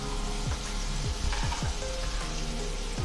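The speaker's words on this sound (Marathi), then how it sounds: "अर्धा कप बॉईल केलेले मटार आहेत, परतून घेऊया" Boiled peas sautéing in a pan, a steady close sizzle with a few scraping spoon strokes across the metal, no voices.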